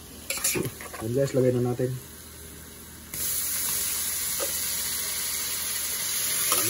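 Marinated meat and garlic for Ilocano igado hit a hot pan and settle into a steady, close sizzle with faint stirring. Someone speaks briefly over clinking at the start.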